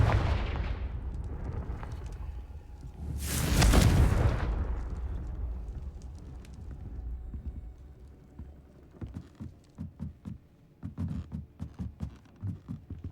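A Confringo blasting spell erupts in the video game Hogwarts Legacy, one loud booming explosion with a rumbling tail, followed by faint clicking and tapping.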